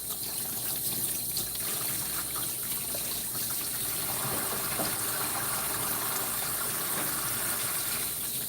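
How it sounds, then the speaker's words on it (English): Water pours and splashes steadily from a grooming tub sprayer while a dog is rinsed, a continuous close gushing and trickling hiss with no speech. "You want to be sure to rinse them out properly."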